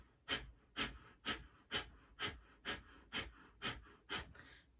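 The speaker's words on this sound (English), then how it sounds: "the Kapalbhati is when you're here and you're breathing through your nose using your lung, stomach, and the air" Kapalbhati yoga breathing: nine sharp, forceful exhalations through the nose in a steady rhythm about half a second apart, close and fairly loud with no talking.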